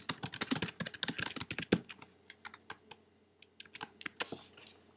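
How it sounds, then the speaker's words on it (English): Fast, close typing on a computer keyboard: a dense run of light key clicks at first, then sparser individual taps in a quiet room. "And then go ahead and type your message."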